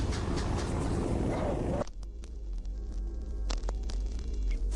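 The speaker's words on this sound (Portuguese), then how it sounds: "Depois, ruído branco." Harsh, loud static white noise from a Minecraft music disc fills the start, then abruptly drops to a lower crackling, humming noise with scattered pops.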